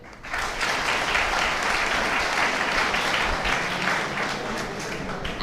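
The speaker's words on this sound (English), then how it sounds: "And a bigger round of applause for your placement cell." Students in a lecture hall break into applause for their placement cell during a pre-placement talk, the crowded clapping swelling in quickly and holding as a loud, continuous roar of many hands.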